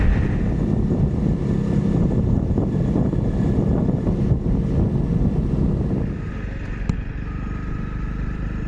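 A Honda CRF300 Rally motorcycle is ridden on the road. A loud, steady engine drone mixes with heavy wind buffeting on the microphone, then eases slightly toward the end.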